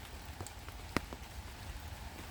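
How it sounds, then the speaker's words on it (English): Steady light rain patters across an autumn park, a soft even hiss with a few faint drop taps and one brief sharp tick near the middle. "Are you hiding from the rain?"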